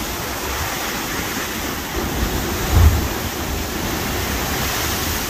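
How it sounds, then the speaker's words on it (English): Big ocean wave breaking on the rocky north coast of Curaçao: a steady roar of surf and spray with a heavier splash thudding in about midway, loud and close. "Wow, that was a nice big splash right there."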